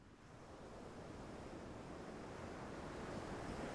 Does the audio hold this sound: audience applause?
no